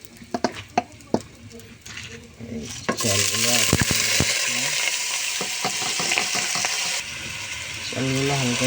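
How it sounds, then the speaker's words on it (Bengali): Rice grains lightly frying in oil with cinnamon pieces and white cardamom hiss in a close pot, with scraping stirs and spoon knocks and bursts of sizzle that rise and settle. "চালগুলো হালকা একটু ভেজে নেবো তেলে।"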